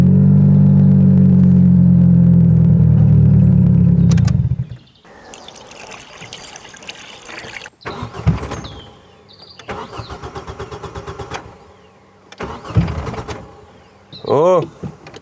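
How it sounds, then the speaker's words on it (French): A long-idle car being restored cranks and catches, then stumbles and chokes each time the throttle opens, giving several short bursts of revving that die away, with a voice exclaiming between the attempts. "Dès que j'accélère, dès que je mets du gaz, ça s'étouffe."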